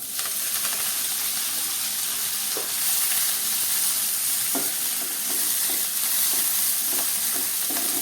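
Fenugreek leaves frying with garlic in a hot pan: a steady, close sizzle and hiss throughout, with occasional soft stirring clicks and no talk.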